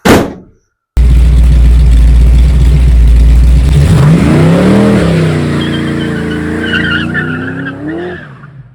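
A 1968 Ford Mustang with a 351C V8 and Holley Sniper EFI on a test drive: a loud, close engine roar that drops briefly, then a short tire squeal and a rising rev through the gears before it fades slightly.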